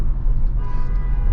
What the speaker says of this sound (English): That's why they got honked at.